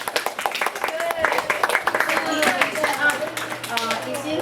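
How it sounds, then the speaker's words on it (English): A sixth-grade science class claps for classmates after a mold observation presentation, with a burst of uneven clapping from a small group. A teacher's voice talks over it. "Give them a round of applause."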